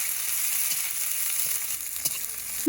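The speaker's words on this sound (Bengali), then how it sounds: "তো তেলটা পুরো গরম হয়ে গেছে, এখন আমি পেঁয়াজগুলো দিয়ে দিচ্ছি।" Onions frying in fully heated oil, browning for chicken biryani: a close, even hiss of sizzling fat with a few faint clicks and a small knock at the end, no voices.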